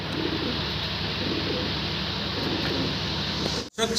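Top-quality fancy pigeons coo together in a dense, loud, unbroken wash of murmuring that fills the space, then cuts out sharply for a moment just before the end.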